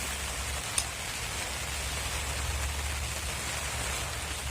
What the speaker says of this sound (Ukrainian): Можна медитувати, дивлячись на дощ.